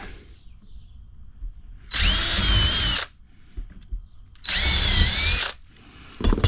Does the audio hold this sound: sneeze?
no